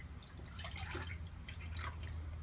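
Whole milk is poured into a bowl for banana flour cornbread, a faint, soft splashing trickle with a few drip-like spurts over a low background hum, with no voices.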